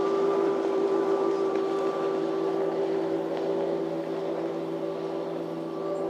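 An offshore superboat racing powerboat drones past at a distance, a steady tonal engine hum that holds evenly and fades slightly toward the end.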